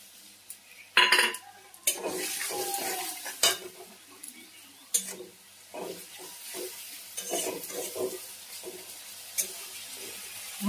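Tomato masala with turmeric and chili is stirred and sautéed in oil in a pan for a fish curry, repeated scraping and clattering of a spatula over a low continuous sizzle.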